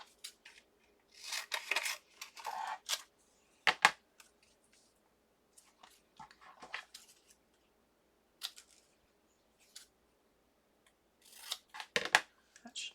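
Scissors snipping through thick cardstock to make a floral gift card tag, a series of crisp close cuts in irregular bursts separated by pauses, alone without talk.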